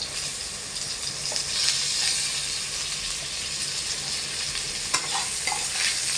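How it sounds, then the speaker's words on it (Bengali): Chunks of taro and potatoes fry in a pan, giving a continuous bright sizzle with occasional stirring scrapes and small spattering bursts, close and alone without speech. "এর ওপর এবার আমি আলুগুলো দিয়ে ভাজবো।"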